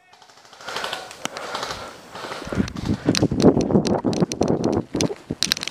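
Airsoft gun firing on full automatic during a skirmish game, bursts of rapid snapping shots outdoors. Scattered pops come first, then a dense, louder clatter in the second half, with voices mixed in.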